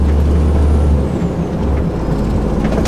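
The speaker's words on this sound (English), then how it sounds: "it's like wheel spin there" A Magnum truck's wheels spin on fresh snow during a snowstorm, a loud, steady low engine roar with a hissing whine that dips and then continues, heard up close with no talking.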